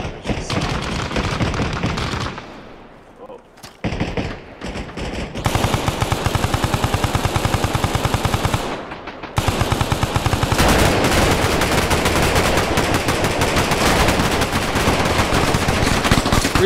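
An RPK machine gun fires in Arma Reforger, loud and close in long sustained bursts with a short gap near the start and another brief pause midway, the rapid rattle dominating throughout.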